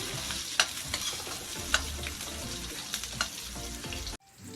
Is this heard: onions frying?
yes